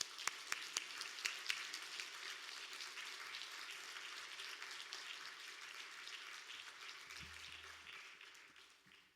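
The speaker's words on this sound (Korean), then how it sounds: "박수로 모시도록 하겠습니다" A church congregation claps steadily to welcome a pastor during a Wednesday evening worship service, a dense, fairly faint wash of applause that swells early and slowly fades.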